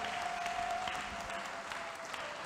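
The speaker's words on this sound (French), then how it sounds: "Let us clap for the Lord." A church congregation applauds for the Lord in steady, dense clapping that fills the room evenly for the whole stretch, with a faint sustained tone beneath it.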